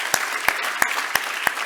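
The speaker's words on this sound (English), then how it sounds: "Let's give them a round of applause." A crowd at a 25th anniversary celebration event gives a round of applause, a continuous bed of clapping punctuated by sharp, evenly spaced louder claps about three times per second.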